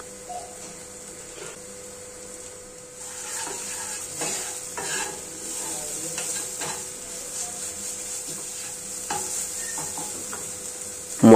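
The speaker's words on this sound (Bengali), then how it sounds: "মশলাটা যখন কিছুটা কষা হয়ে যাবে" Spices seasoned with turmeric and salt fry and get stirred in a pan for a Bengali dal and pointed gourd curry, giving a steady close sizzle with repeated scraping stir strokes and no voices.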